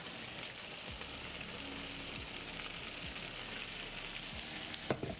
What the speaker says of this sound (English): Have good sizzle sounds.